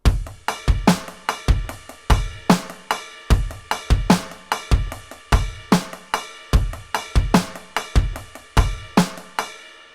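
A drum kit plays a steady, lopsided groove of kicks, snares and cymbal crashes, looping in a 7/8 pattern with no talking.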